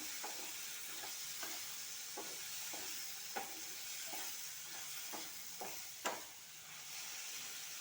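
Gram flour for a Karnataka-style vegetable gassi is roasted in a pan, with regular stirring scrapes about every half second over a faint, steady sizzle.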